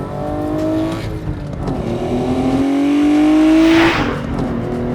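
A Hyundai Genesis Coupe's naturally aspirated 3.8 litre V6 revs up close and loud, its engine note climbing steadily in pitch before dropping back off.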